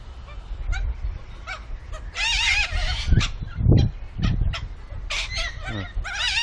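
Ibises perched in a tree in Sydney give repeated harsh, honking calls in irregular bursts, fairly close and loud, over a background of murmuring people.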